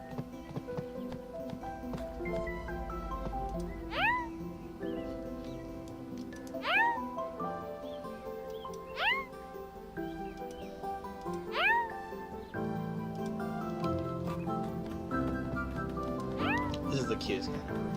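A cat in the farming video game Staxel meows about six times at a steady, spaced pace, each call short and rising, over continuous background game music.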